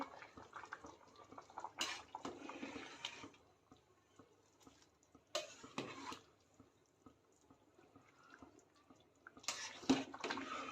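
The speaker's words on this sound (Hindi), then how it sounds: "तो 2 मिनट के बाद हम चेक करते हैं एंड अच्छा खासा उबाल आ रहा है।" Prawn pulao bubbling as it boils in a pot over a gas flame, with soft watery burbles and a few louder bursts of stirring or splashing, close and fairly quiet with no talk.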